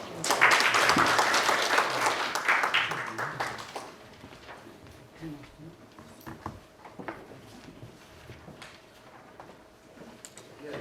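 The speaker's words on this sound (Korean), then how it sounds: "총장님 특강을 위해서 다시 한번 환영 박수를 부탁드립니다" University lecture audience giving welcoming applause: a loud burst of many hands clapping for about four seconds that trails off into scattered claps, light taps and room noise.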